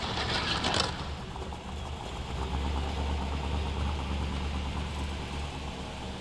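Green Sabre car engine idling in a video game, a low steady rumble that holds through the whole stretch, with a brief louder burst of noise near the start.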